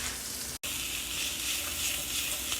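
Potatoes and vegetables fry in a pan on high heat, giving a loud, steady close sizzle with a very brief dropout near the start and no talk.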